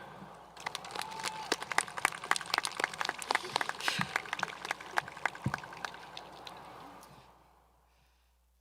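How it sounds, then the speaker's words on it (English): Applause from the audience at the Edward H. White High School 2021 graduation ceremony, a crowd clapping steadily for several seconds before it fades out into near silence. "let us also take a moment to give a round of applause in thanks to everyone who supported us along our journey here."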